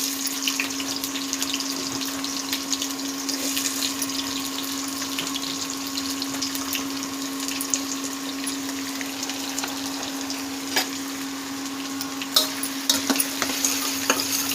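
Sliced onions fry in oil in a pan for chicken charu, making a loud, continuous sizzle over a steady background hum, with occasional stirring clatters toward the end.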